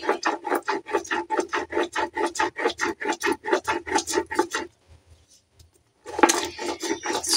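Black mustard seeds ground into a paste by hand on a stone, a fast rhythmic rasping scrape repeating steadily and close, then a brief pause before a rougher burst of grinding.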